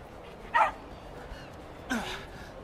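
Dog in the Tintin video game 'The Secret of the Unicorn', giving two short, separated barks, moderately close and fairly faint over a quiet background.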